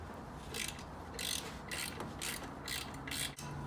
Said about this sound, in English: What I'm going to do is your standard old ratchet with a little extension